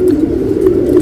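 A pigeon gives a low, soft, continuous coo, close and fairly loud, with no other sounds around it.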